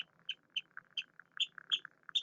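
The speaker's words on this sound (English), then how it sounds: "I swear this bird's like trying to talk to me." A small bird chirps repeatedly nearby, bright short tweets in an irregular quick rhythm over a softer continuous twitter, fairly faint and heard alone.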